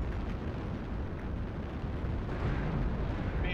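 Airstrike explosions in the MechWarrior video game roll on as a continuous, loud, low rumbling barrage of overlapping blasts with no clear gaps.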